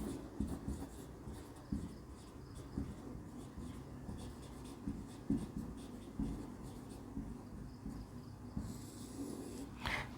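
Marker or chalk scratching across a classroom board in short irregular strokes, faint and close, with soft breathy background noise and pauses between strokes.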